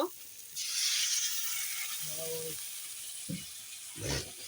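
Water splashes into frying masala and potatoes, bursting into a loud hiss that settles into a softer sizzle. Faint scraping and brief voice sounds follow.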